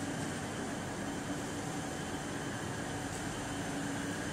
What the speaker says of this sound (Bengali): আচ্ছা ট্রেন আসলো